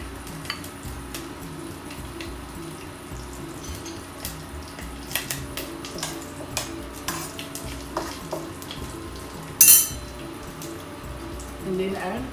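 Bay leaf and cinnamon stick sizzle in hot oil in a heated pan, a steady low frying hiss with light clinks and stirring, plus a sharp clatter near the end.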